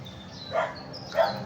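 Two short dog barks about half a second apart, moderately distant, over a low steady background hum.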